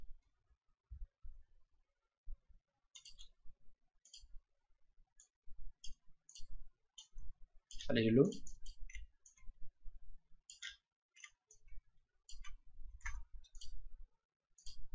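A computer mouse gives sparse, sharp clicks while a simple letter logo is drawn in design software, with quiet taps scattered across the stretch and a brief spoken phrase in the middle.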